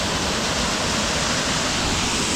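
Side waterfall on a creek at Hin Lad Falls, Koh Samui, Thailand, roaring steadily and loudly up close as a dense, unbroken wash of falling water with no voices.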